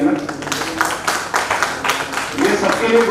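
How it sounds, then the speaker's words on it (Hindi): Clapping from an audience at a municipal corporation Independence Day honours ceremony, a dense, continuous spatter of applause heard close, with a voice talking over it on a loudspeaker. "तालियां रुकनी नहीं चाहिए ना।"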